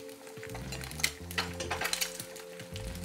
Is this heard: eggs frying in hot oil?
yes